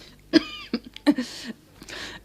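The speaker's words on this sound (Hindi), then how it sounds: "खांसते हुए माँ बोली" Several harsh coughs come in quick bursts, close and fairly loud, followed by a raspy clearing of the throat.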